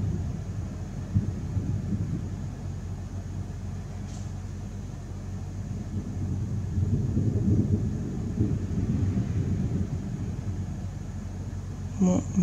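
Thunder rolls from an active thunderstorm over Paris, a low distant rumble that swells and fades across a steady background of city noise, with no voices.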